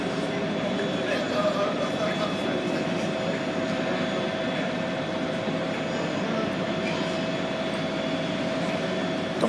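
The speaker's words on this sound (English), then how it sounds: "the next one to pass is going to be a freight train" A freight train passes through Manchester Piccadilly station, giving a steady loud rumble with tonal hum and rail drone held evenly throughout, with faint talk mixed into the background.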